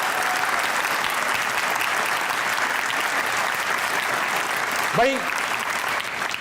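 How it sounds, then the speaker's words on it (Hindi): Loud audience applause fills a Hindi comedy show stage, steady dense clapping throughout, with a brief voice calling out near the end. "एक बार जोर से तालियां बजाइएगा क्योंकि आप लोग मौजूद हैं।"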